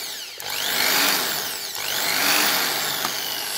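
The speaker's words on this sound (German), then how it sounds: "So, Maschine läuft und ich drehe jetzt einfach hier den Schalter dabei, so wie ich das gerade brauche." Defort DID-501-B 500 W impact drill running alone at close range, its motor whine rising and falling in two sweeping speed changes as the switch is worked.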